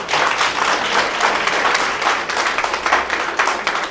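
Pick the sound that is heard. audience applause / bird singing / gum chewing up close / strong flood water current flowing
audience applause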